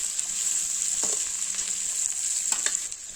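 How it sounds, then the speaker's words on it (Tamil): Coconut slices and onions sauteing in a pan for a village-style Pallipalayam chicken gravy, a steady hissing fry close up with a few soft stirring scrapes, no voices. "தேங்காய் சில்லு, வெங்காயம் எல்லாமே நல்லா வதங்கிடுச்சு."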